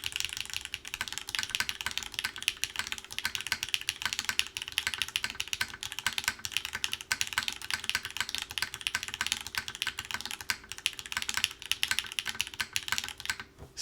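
Typing on a wooden-cased Zensai 65 keyboard with a plum plate, Latte switches and GMK keycaps: a steady stream of close, soft clacky keystrokes continues without pause, with no talking.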